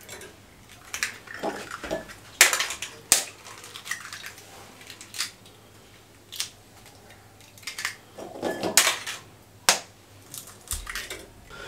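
Four eggs cracked one after another into a bowl, with sharp close taps and cracks against the rim and soft wet drops between them, set apart by quiet pauses and occasional clinks of the bowl.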